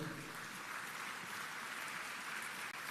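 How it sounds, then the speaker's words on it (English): Audience applause for graduates at an ESOFT graduation ceremony, a broad, continuous roar of many hands clapping at once, even and sustained all the way through, with no voices on top. "Let's put our hands together and give all of them a round of applause."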